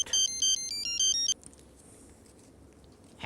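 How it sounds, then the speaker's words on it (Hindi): A phone ringtone sounds loud and close as a repeating electronic melody in several short bursts, then stops, leaving a quiet room. "फ़ोन बज रहा है एक आपका"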